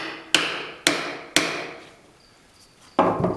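Sharp hammer blows tighten a wedge-powered wooden vise: three loud knocks about half a second apart, a short pause, then a fourth strike, each ringing briefly before fading.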